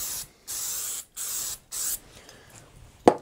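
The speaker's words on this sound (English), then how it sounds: "then we'll spray the activator on the back of the fretboard." Four short hissing bursts of glue activator sprayed from an aerosol can onto the back of a guitar fretboard, evenly spaced, followed by quiet handling and a sharp click at the end.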